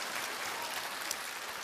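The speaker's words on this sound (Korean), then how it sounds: "뭐 박수를 치실 거면 좀 화끈하게." Audience applause fills a seminar hall, a dense steady clatter of many hands clapping for under two seconds with no voice over it.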